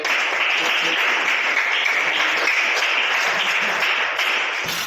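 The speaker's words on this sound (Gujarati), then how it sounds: "જિજ્ઞેશ માટે બસ તાળીઓ" Applause at a birthday celebration for Jignesh, a dense, steady crowd clapping that carries on evenly for several seconds before tailing off, with no speech over it.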